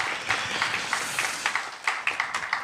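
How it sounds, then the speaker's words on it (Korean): A church young-adults congregation clapping in encouragement for Sunday school teachers, a brief round of moderate applause from many hands in an indoor hall, without talk. "격려의 박수 한번"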